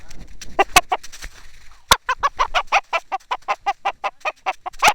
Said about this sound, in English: Okay, now we're going to set the rooster down.